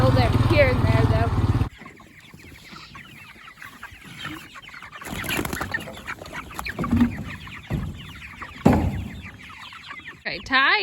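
Chickens raised as meat birds cluck inside a coop, their calls close and prominent at the start and then scattered softly under a person talking.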